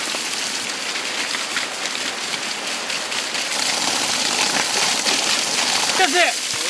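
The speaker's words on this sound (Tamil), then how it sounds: "மழை வருது." Steady hiss of falling rain all the way through, with people talking nearby over the downpour.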